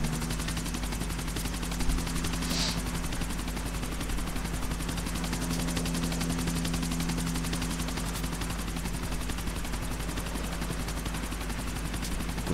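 Helicopter in Grand Theft Auto IV with a steady rotor drone and engine hum throughout, loud and continuous with no talking, a faint burst of gunfire-like crackle near the start.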